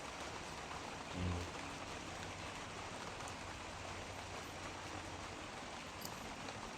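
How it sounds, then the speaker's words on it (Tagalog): Steady rain falls in a dense, even hiss, with one brief low thump early on. "Umuulan na guys. Umuulan na."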